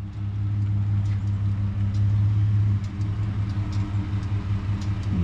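An old red truck's engine runs at a steady idle, a low, even rumble with a faint rhythmic pulse that holds close and loud throughout, with no one speaking.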